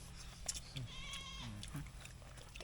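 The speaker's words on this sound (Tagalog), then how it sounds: "Ang hunang kambing, nakakaimot." A goat bleats a few times, wavering and fairly close, over a steady hum of background noise.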